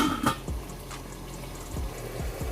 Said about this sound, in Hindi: ये देखिए पानी बॉईल होना शुरू हो चुका है। अब मैं इसके अंदर चावल ऐड करूँगी।